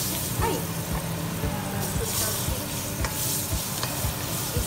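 Onions sauté in hot oil for Ilonggo-style nilagang baka with jackfruit, a dense, continuous sizzle with repeated stirring knocks and scrapes throughout, close and fairly loud, no talking.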